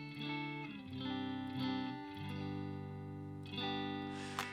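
Electric guitar played through a Seeker Effects Lineage Face fuzz pedal, with the pickup selector in position 2, gives sustained chords and notes with a thick harmonic tone, changing every second or so, with a brighter pick attack near the end.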